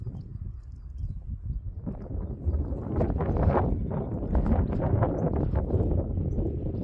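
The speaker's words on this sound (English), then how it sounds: "It is quite windy" Gusty wind buffets the microphone at a campsite on the Isle of Mull, Scotland, a loud, rough rumble that swells and stays strong throughout.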